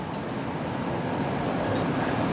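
An MRT train runs at Ortigas station in Manila, giving a steady, loud, broadband rumble that holds evenly throughout with no pauses and no talking.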